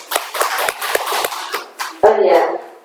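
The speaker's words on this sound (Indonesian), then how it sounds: "Tepuk tangan untuk Mas." Brief applause for a speaker at a school learning-community meeting at SMP N 1 Weru: a few scattered claps and hand slaps break out between spoken words, then end in a short burst of louder clapping.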